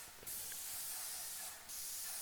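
A spray gun lays a finish coat across a flat tabletop, a loud steady hiss of atomised finish that runs continuously with a brief dip as the pass pauses and restarts.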